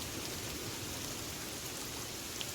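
In the survival game Sons of the Forest, rain falls as a soft, constant hiss of drops, a faint and even wash of noise with no voices over it.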